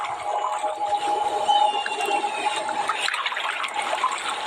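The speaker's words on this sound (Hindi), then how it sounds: "एक लकड़ी की नाव पानी को चीरते हुए" A wooden boat cuts through calm sea water, giving a continuous close wash of splashing and trickling with no voices.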